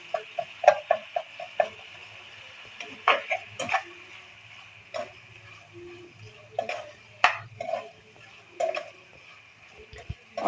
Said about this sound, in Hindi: अब हम इन सारी चीज़ों को मिक्स कर लेते हैं।